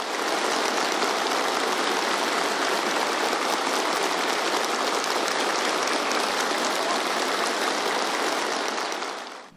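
Sustained, dense applause from airborne corps officers and soldiers greeting Xi Jinping, a steady wash of many hands clapping at even loudness throughout, with no voices over it.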